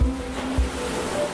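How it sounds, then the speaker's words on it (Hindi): Flood-surge waves and strong wind toss a heavy ship at sea, with rumbling gusts and repeated low surges of water pounding roughly every half second. "तेज हवा के साथ आए इस उफान में ऐसी ताकत है कि ये भारी भरकम जहाज किसी खिलौने की तरह लहरों पर डोल रहा है।"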